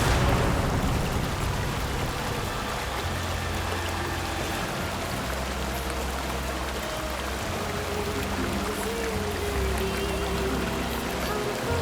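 A jungle waterfall near Jumma Patti, heard as a steady, loud rushing pour of water with continuous spray that carries on evenly throughout.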